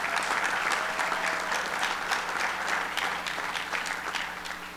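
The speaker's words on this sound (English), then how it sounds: "So let's give them a round of applause." An audience claps through a sustained round of applause at a Puerto Rico relief and recovery announcement, a dense, steady clatter of many hands that tapers slightly toward the end.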